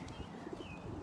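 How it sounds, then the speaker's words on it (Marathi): Pigeons in a London park give soft low cooing with a few faint chirps, heard briefly and quietly at a moderate distance among the park ambience. "अरे यार कबूतर किती आहेत बापरे, लॉट्स ऑफ कबूतर"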